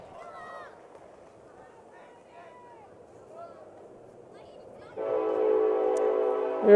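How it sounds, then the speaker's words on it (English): A train passing near a high school baseball field sounds its horn, a loud sustained multi-tone blast arriving after a stretch of faint crowd murmur and a distant announcer's voice. "I knew the train would be here eventually."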